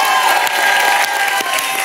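An audience applauds loudly and continuously, with dense clapping and some crowd noise filling the short burst.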